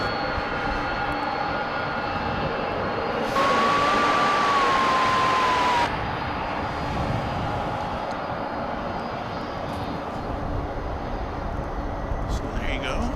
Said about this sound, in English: this is the New Zealand flight touching down